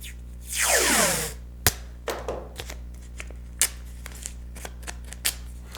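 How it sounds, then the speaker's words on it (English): Paper backing is peeled off a self-adhesive felt sheet while assembling a 5119 Cameras The 45 Model 1 camera kit. It comes as one close, loud, drawn-out tearing rip, followed by several short, quieter crackles and taps of paper handling. "we're going to peel the paper backing off of this"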